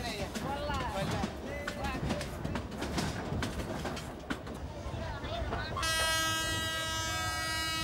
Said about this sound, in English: When the train makes a stop,